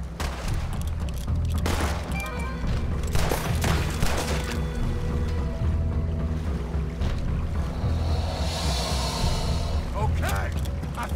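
Gunfire in Red Dead Redemption 2 during a mission: repeated shots ring out over a steady low rumble of game ambience, with several bursts close together and some voice beneath.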